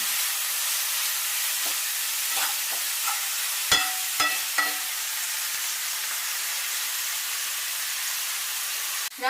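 Egg masala filling for dosa is stirred in a hot pan after a pinch of salt goes in; a soft, continuous sizzle runs under several sharp spatula clicks and scrapes clustered near the middle, with no talking.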